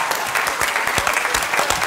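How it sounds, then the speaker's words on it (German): Studio audience at a live HR television comedy marathon applauding, a dense, steady burst of clapping from a large crowd, loud and continuous. "Ja, Applaus."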